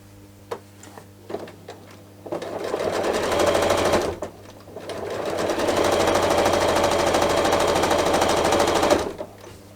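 A sewing machine runs with a quarter-inch foot, stitching binding along a quilt edge: brief ticks first, then two sustained bursts of rapid close whirring stitching with a short pause between.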